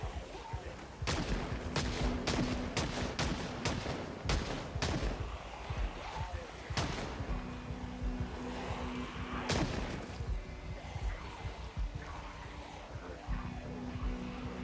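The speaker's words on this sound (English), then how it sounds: "Let's go level up our shooting skills now." Gunfire in the zombie survival game Project Zomboid: a quick burst of sharp shots early on, then isolated loud cracks spaced apart over a steady low background hum.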